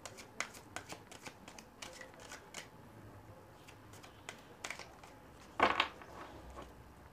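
Oracle cards handled and shuffled, soft scattered taps and flicks close up, quiet overall with one louder rustling burst near the end.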